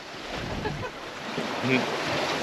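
Wind rushing and water washing against a moving sailboat under sail off Ocracoke, Outer Banks, a steady breezy hiss with faint murmuring voices underneath.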